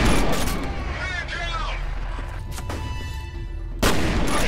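Gunfire in the shooter F.E.A.R. cracks out in loud, broadband bursts, with a heavy volley at the start and further shots later, while a voice talks between them.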